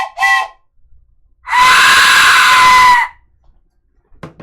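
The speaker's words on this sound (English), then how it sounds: "let's do the death whistle and train combo, so it sounds like somebody got ran over by a train" Two combined sound effects: a short shrill death whistle scream followed by a longer, loud piercing train-whistle blast lasting about a second and a half, with brief faint noises after.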